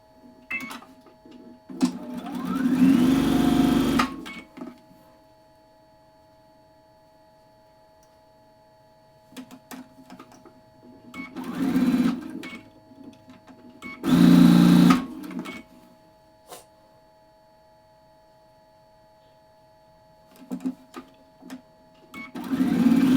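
A sewing machine stitches rows of a quilt block together in short separate runs, each a steady mechanical whir lasting a second or two, with quiet pauses and faint handling sounds between.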